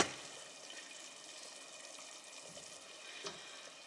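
Spinach with bacon is mixed in a pan, producing a soft, continuous sizzle and frying hiss with faint stirring scrapes throughout.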